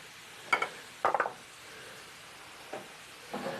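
Mushroom duxelles cooking in a large skillet, with a soft steady sizzle broken by a few short scraping stirs, fairly quiet and with no talk.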